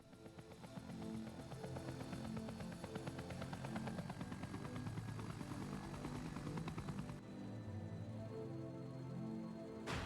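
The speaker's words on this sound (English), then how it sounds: "Brad finally landing his helicopter." A helicopter landing in the Resident Evil game, with a steady pulsing rotor chop and engine drone that holds at moderate loudness before the tone shifts slightly near the end.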